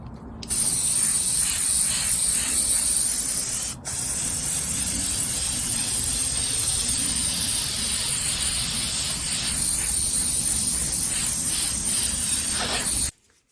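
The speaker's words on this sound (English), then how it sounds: "now I'm just going to put a coat of shellac on it to seal it and hopefully make it easier to paint" A spray gun lays a coat of shellac onto a sanded wooden rocking chair, giving a loud, steady hiss that breaks off for an instant partway through, then cuts out at the end.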